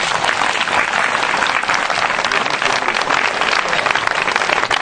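A church congregation breaks into loud, dense applause, sustained and even throughout with a large crowd clapping up close.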